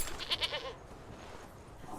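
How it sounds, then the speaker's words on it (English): A goat bleats in the video game Conan Exiles, two or three short close calls at the start, then fading into quiet game ambience. "Is there another goat?"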